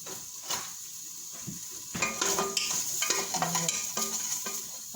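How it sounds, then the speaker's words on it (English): Fat cooking down in a pot for homemade collard greens, a faint high sizzle with scattered clinks and scrapes of a spoon against the pot, quiet and close with no talk. "I'll let some of that fat cook down"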